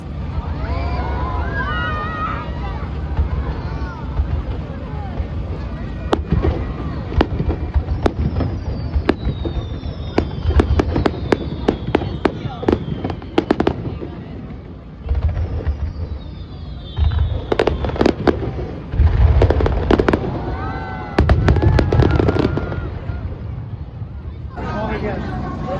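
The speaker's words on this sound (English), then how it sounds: "It's Hanabi, the firework days." Fireworks burst repeatedly over Kobe Harborland during an August Bon dance festival, loud cracks and booms in clusters and rapid volleys, with crowd chatter and wind rumble between them.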